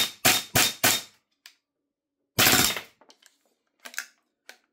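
A B&T GHM9-G gas blowback airsoft gun fitted with a suppressor fires three quick sharp cracks in a row, then one more after a pause, each followed by faint mechanical clicks and rattles in a cold, quiet setting.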